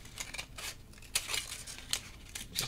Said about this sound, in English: So I'm gonna cut.